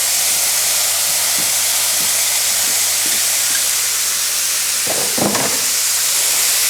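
Chopped onion frying in a pan for a quiche Lorraine gives a steady, close sizzling hiss, with a few soft clunks of stirring near the end.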